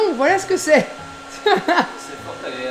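A hair dryer blows steadily as someone dries off, a low continuous whir running beneath someone speaking French close by.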